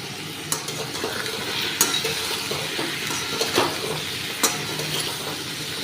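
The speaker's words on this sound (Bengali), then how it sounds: "এবারে বেশ কিছুক্ষণ একটু নাড়িয়ে নিচ্ছি" Pumpkin curry with salt, turmeric and a little sugar being stirred as it fries in a pan, with a steady close sizzle and occasional sharp clinks of the spoon against the pan.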